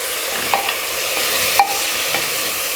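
Tomatoes being stirred into egg biryani masala in a pot give a steady sizzle, with a few soft scraping knocks from the spoon.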